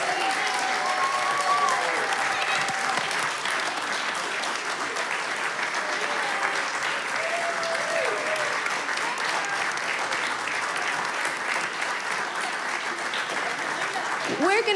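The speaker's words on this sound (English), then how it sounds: "let's have a round of applause for all of our wonderful young performers." Long, steady round of audience applause for young performers at the close of a December concert program, dense clapping with scattered voices and whoops from the crowd throughout.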